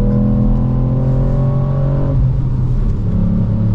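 A Ford Puma ST's engine hums loud and close from inside the car while driving, a steady droning note that holds, then eases as the revs shift, with no talking.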